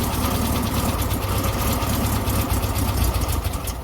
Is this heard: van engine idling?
yes